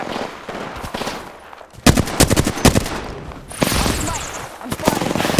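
Gunfire in the video game Apex Legends: loud, close bursts of rapid automatic shots and sharp cracks over game sound effects and a busy background.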